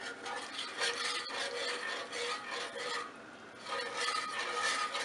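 A spoon scrapes and rasps steadily around a pot of thick milk gravy being stirred for Salisbury steak, a soft continuous rubbing with slight rhythmic swells and no talking.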